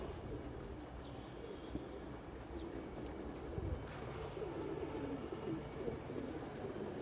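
Pigeons cooing in a loft at feeding time, soft low coos repeating steadily under a constant background hum, with no talking.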